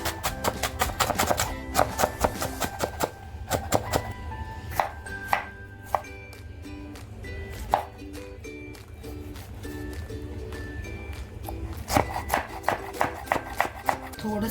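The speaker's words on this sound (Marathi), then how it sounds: "कांदा एकदम बारीक कापून घेते" An onion is chopped finely with a knife on a cutting board, giving quick bursts of sharp, rhythmic taps, close and crisp, with short pauses between runs of chopping.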